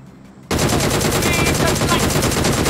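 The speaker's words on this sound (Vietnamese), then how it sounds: "Mấy thanh niên này vẫn đang mải mê bắn nhau lắm anh em ạ" Rapid automatic gunfire from PUBG Mobile begins abruptly after a quiet moment, then continues as a loud, dense, unbroken burst of shots to the end.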